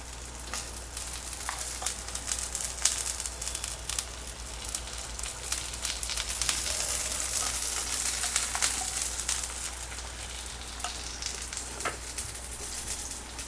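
Thalipeeth sizzling in ghee in a pan, a steady close frying hiss with irregular crackles and pops throughout, alone without talk.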